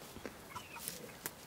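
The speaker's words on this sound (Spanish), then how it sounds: "Aquí duermen todas las gallinas" Hens in their sleeping coop giving a few soft, faint clucks and short calls spaced across a brief quiet moment, with no talking.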